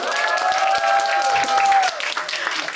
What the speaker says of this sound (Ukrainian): Оплесками привітаємо у Василя сьогодні день народження.